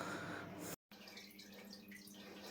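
Water and debris are siphoned out of an axolotl tank with sand, giving a faint, steady trickling and gurgling rush that cuts out briefly and then resumes.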